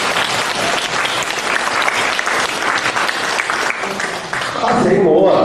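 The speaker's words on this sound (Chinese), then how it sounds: "鼓掌。" An audience at a Buddhist dharma assembly in Aarhus, Denmark claps in a dense, continuous round of applause lasting several seconds, with a voice speaking over it near the end.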